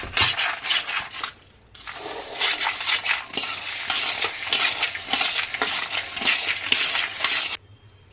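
A spoon stirs chili powder into a spice masala for crispy masala peanuts, with repeated scraping and rubbing strokes against the vessel in a brisk rhythm, close and fairly loud, briefly pausing twice.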